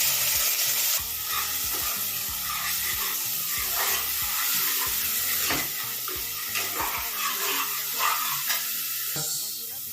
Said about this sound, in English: Just fry it a little